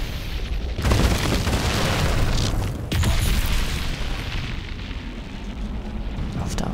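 Heavy booming Gauss cannon shots and explosions in the shooter game Crysis 3, two deep blasts a couple of seconds apart with rumbling tails over dense battle noise, loud and close.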